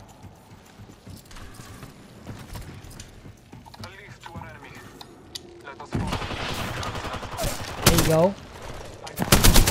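Gunfire bursts in Apex Legends, rapid weapon shots and impacts growing louder toward the end amid busy game effects, with a player talking over the action.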